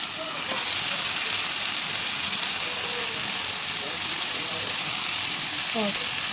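Continuous loud sizzle of marinated mutton frying with onions in a hot pan, a dense hiss throughout with faint clinks and stirring.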